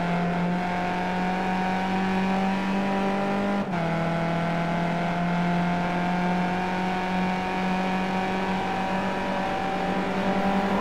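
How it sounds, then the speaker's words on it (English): Onboard race car engine at the Nordschleife in the iRacing sim, a Skip Barber open-wheel car held at a steady high drone with one brief gear-change dip, loud and continuous with no talk. "go on board a little bit with Rob Reed and just see how difficult it is for these cars to really, really get it going here at this Nordschleife course"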